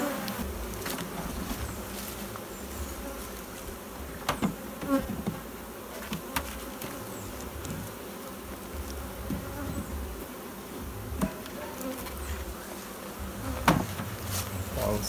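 Bees buzz steadily and densely around hive boxes, a close, continuous drone with occasional sharp knocks and bumps.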